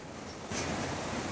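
Floodwater flows in a village in Lampang, Thailand, carrying water hyacinth: a steady broadband rushing wash, close and moderately loud, swelling slightly halfway through, with no voices.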